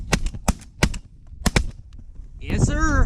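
Shotgun blasts on a waterfowl hunt: four or five loud, sharp reports in quick succession, each ringing out briefly, followed by a rising, wavering call or shout as the shooting stops.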